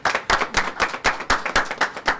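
An audience claps in a quick, steady burst of applause, sharp close hand claps repeating rhythmically with no voices.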